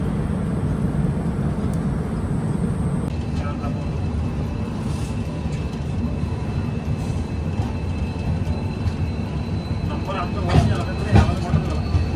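Steady low rumble of the Darjeeling Mail passenger train running, heard from a 3-tier AC coach near New Jalpaiguri, with faint clicks and a couple of brief metallic clanks near the end.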